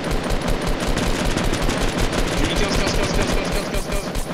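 A rapid, continuous rattle of automatic weapon fire in the video game Fortnite, played during a French tournament, keeps up a dense, loud stream of shots throughout.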